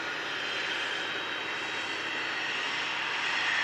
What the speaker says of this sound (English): A350-1000 heading back to Doha in the Middle East.